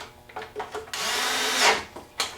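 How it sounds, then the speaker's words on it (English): A power tool runs through a steady stretch of nearly two seconds while a nut driver tightens bolts on a Stihl BG86 leaf blower, preceded and followed by short bursts and clicks, with no talk. "just take your nut driver or your electric nut driver"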